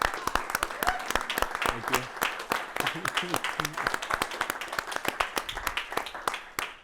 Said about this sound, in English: we'd be happy to give you guys a round of applause